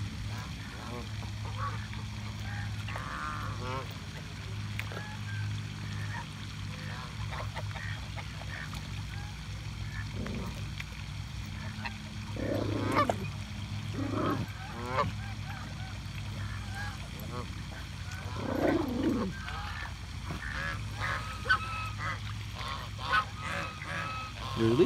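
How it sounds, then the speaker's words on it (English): Geese and ducks honk and quack intermittently at a park pond, scattered calls rising over a steady low background hum, with a person talking nearby. "Are you chasing the ducks away, Moody?"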